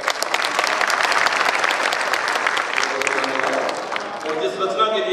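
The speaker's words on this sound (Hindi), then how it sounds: "कवि जब कविता पढ़ता है तो समर्थन चाहता है तालियों के द्वारा।" Audience at an international kavi sammelan and mushaira applauding a poet's recitation, a dense, steady burst of clapping from a large crowd lasting throughout before thinning slightly at the end, with some murmuring voices mixed in.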